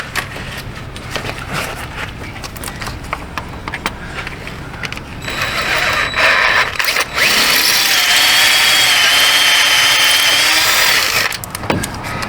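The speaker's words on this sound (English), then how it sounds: "Now let's drill her out a size bigger." A power drill with a 3/16 bit boring out a broken exhaust manifold bolt on a 2020 GMC 2500HD 6.6 truck, starting in hesitant bursts, then running as a loud, sustained whine before stopping.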